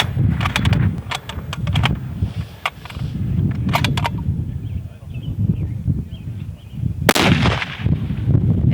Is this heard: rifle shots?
yes